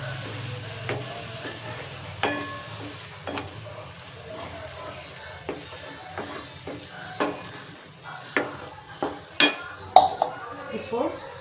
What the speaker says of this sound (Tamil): இதை கொஞ்சம் வதக்கிடலாம்